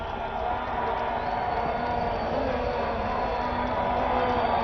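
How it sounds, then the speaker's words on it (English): Crowd at a one-day international cricket match between Zimbabwe and India roars as a batsman reaches fifty, a broad, sustained, distant-sounding cheer with faint commentary voices mixed in. "With that single loud cheer, 50 for Masakadza"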